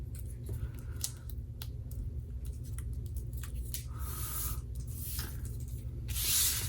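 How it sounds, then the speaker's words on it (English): Backing is peeled off adhesive dimensionals for a handmade card: short papery crackles and ripping hisses come close up and fairly faint, in several quick bursts over a low steady hum. "Peel the backing off."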